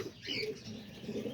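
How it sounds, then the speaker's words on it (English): Homing pigeons in a straw-lined loft give soft, low cooing calls with a faint chirp and wing rustle, quiet and close by. "there's all the pigeons right here"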